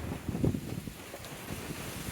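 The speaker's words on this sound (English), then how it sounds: "Apologize for the wind today, very windy day." Strong wind buffets the microphone in a constant, rough low roar with gusty surges and no other clear sounds.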